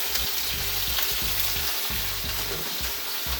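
Peppers fry in a pan with a steady, close sizzle, broken by repeated low thumps and scrapes as they are stirred or shifted about.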